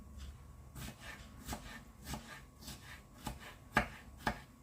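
A knife chops a piece of plum into tiny bits on a board, giving quiet, irregular taps spaced about half a second apart, with a couple of sharper knocks near the end.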